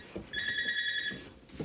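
A telephone ringing once, a bright electronic tone held for about a second, loud and near, with soft background noise around it.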